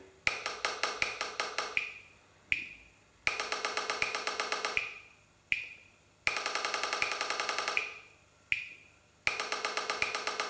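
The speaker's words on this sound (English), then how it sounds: "essentially a practice pad sound." Programmed metronome clicks in a practice-pad sound from the PolyNome app, a steady run of sharp taps in repeating bars, each bar closed by a louder accented hit with a short ringing decay, close and alone with no talk.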